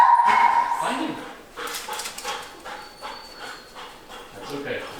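A protection dog in search training barks and whimpers in short, excited yips, fairly close, with a voice talking over and between the calls.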